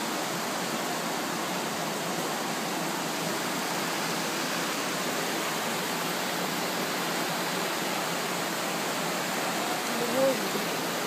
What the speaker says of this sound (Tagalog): Ang lakas-lakas ng agos eh